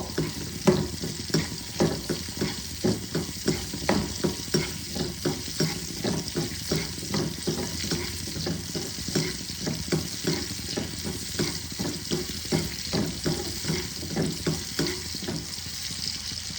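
Dry red chilies frying in oil in a kadhai for a fish curry, a constant hissing sizzle broken by regular scraping strokes of a stirring spoon, close and steady throughout.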